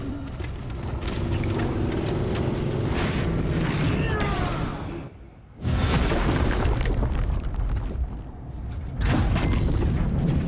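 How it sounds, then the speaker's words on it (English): Heavy engines of a warship rumble in the Space Marine 2 video game, a loud continuous low drone with mechanical creaks and booming blasts, briefly dropping away before surging back. "I hear engines."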